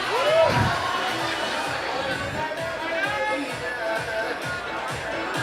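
Large crowd at a college campus event at LPU cheering and chattering during a game, a dense steady roar of voices with shouts rising over it and a faint rhythmic pulse underneath.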